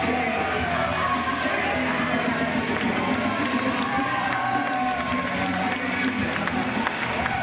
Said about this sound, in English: the crowd equally appreciative of the Wonder Kid